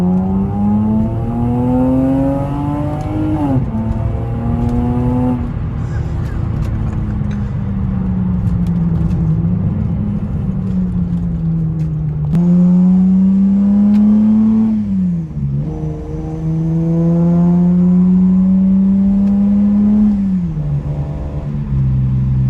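A car exhaust fitted with a 1320 ultra quiet resonator drones smoothly while driving at moderate speed on a small road, its steady engine note rising and falling through gear changes, close and continuous with no talk.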